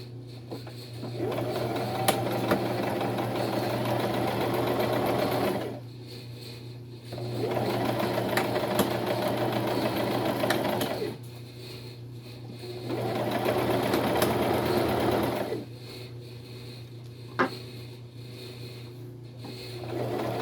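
A sewing machine stitches fabric for a Christmas tree in three long runs of rapid, whirring needle strokes, each separated by brief pauses, over a constant low electrical hum.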